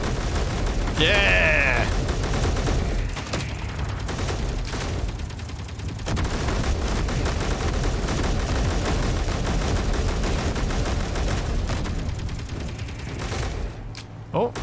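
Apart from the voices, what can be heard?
gunfire from players shooting in video game Space Engineers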